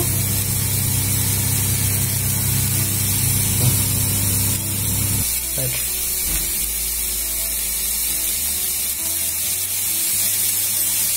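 Coriander stems frying in a pan for chutney, a steady loud close hiss and sizzle that runs throughout, its lower rumble dropping away midway.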